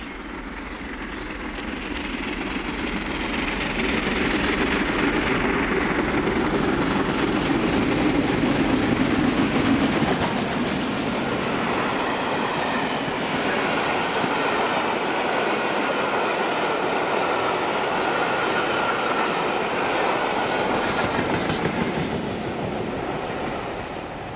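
Passenger train on the Edinburgh to York service passing St Germain's with diesel locomotive 47746 at the rear, a steady close rumble with rhythmic clickety-clack of wheels lasting the whole time, no talk.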